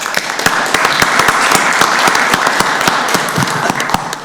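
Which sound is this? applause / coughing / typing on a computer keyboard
applause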